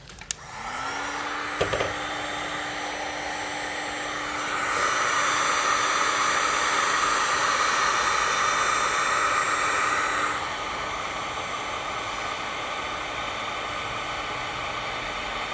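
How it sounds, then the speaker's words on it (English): A heat gun clicks on and runs as a steady airy whir with a low motor hum while shrinking heat shrink tubing on RV porch light wiring, its rush growing louder midway, then easing back. "we'll use a heat gun, use a mini torch"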